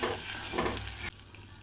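Drumstick leaves stir-fried with onion in a hot pan give a close, steady sizzle with scraping stirs, which cuts off abruptly partway through and leaves a faint hiss.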